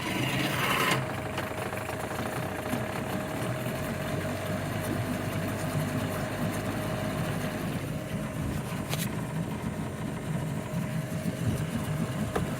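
Sailboat engine running steadily at idle after a fresh battery, a continuous low mechanical drone with a brief higher burst at the start, heard close and alone.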